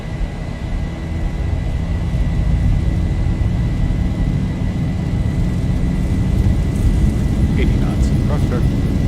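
Boeing 737-700 jet engines spooling to takeoff power in the X-Plane 11 flight simulator, a loud steady roar and whine that holds throughout, with cockpit voices talking over it.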